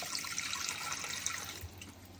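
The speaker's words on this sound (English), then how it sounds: "So into our jug, we just want to put about 250 grams of water." Water is poured into a jug while making yoghurt, giving a steady, close hissing splash that tapers off near the end.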